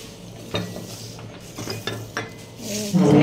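Ceramic cups and plates from a fair purchase clink and knock together as they are handled, with several sharp taps and a louder clatter near the end.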